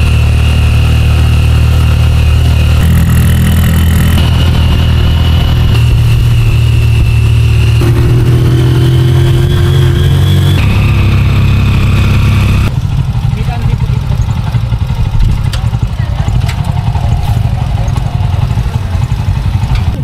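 Motorized tricycle engine running steadily throughout a ride in Dingalan, Aurora, a loud, close mid-pitched drone that shifts as the ride goes on, with people chattering over it.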